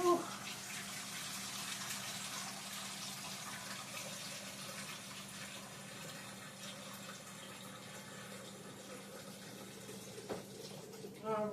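Tap water runs steadily in a kitchen sink while something is washed, a constant close rushing stream lasting throughout, with a couple of brief knocks near the end.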